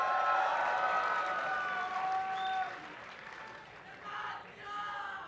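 A live audience at an esports event in Las Vegas applauds and cheers in a loud, sustained roar that fades, then swells briefly again in two smaller waves.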